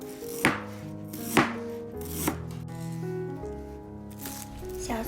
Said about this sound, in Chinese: 姜蒜切片